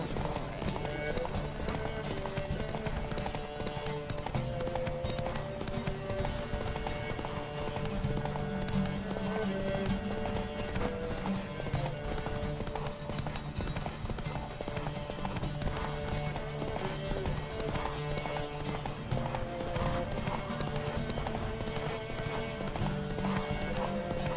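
Horses gallop in a steady clip-clop of hooves through The Witcher 3, with an occasional whinny over a continuous game soundscape and background music.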